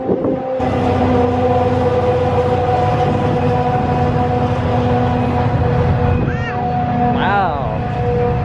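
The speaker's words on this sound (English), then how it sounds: "There goes another train." A train passes close by in a loud, continuous rumble with sustained horn-like tones, while a voice and other people's voices rise briefly over it near the end.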